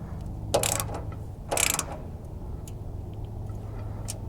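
A ratchet wrench tightening the bracket bolts on a John Deere Gator bed lift makes two short bursts of clicking, close and fairly quiet, over a low steady hum, with no speech.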